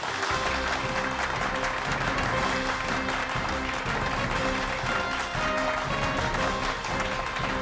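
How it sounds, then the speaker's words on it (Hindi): Audience applause greeting a stage magician at a magic show, steady and dense throughout, with a musical tone running beneath the clapping. "जोरदार तालियों के साथ स्वागत कीजिए"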